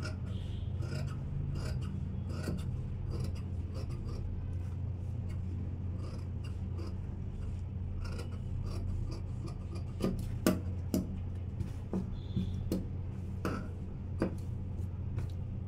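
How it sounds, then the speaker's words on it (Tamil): Scissors cut a piece of silk fabric for a skirt and blouse, a soft, close rasping of blade on cloth with a few sharper snips near the end. "இந்த பீஸ் கட்டிங் பண்ணி எடுத்துடலாம்."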